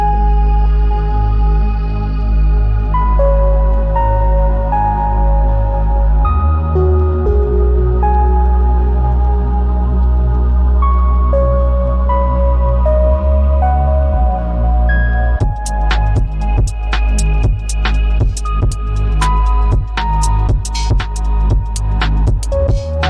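Electronic music track built from the Parawave Rapid synthesizer: sustained bright synth pads and bass lines that shift chords, then crisp percussion hits join in a steady beat, loud and dense throughout.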